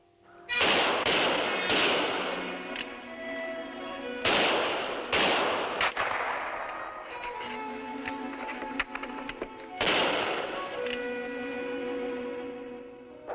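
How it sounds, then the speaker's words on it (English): Rifle gunfire in a TV frontier adventure episode: a series of sharp, echoing shots, several in quick clusters, each decaying into a ringing tail. "Keep firing. Here, my rifle's loaded."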